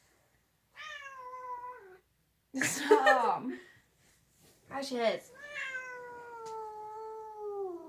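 A cat meows loudly and complains while being picked up and moved, with a drawn-out whiny meow, then a longer protesting yowl, and someone speaking and laughing between them.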